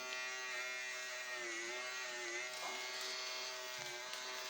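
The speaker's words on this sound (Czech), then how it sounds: "Teďka já chci si oholit, jo?" An electric razor buzzes steadily and close up for the whole stretch, its droning hum unbroken and alone with no talk over it, during a shave.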